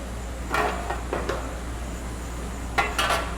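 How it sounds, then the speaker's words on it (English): Kitchen pan picked up and handled while cooking black bean burgers, giving a few short metallic clanks and clatters in separate bursts, close and fairly loud over quiet room hum. "Let me get my pan."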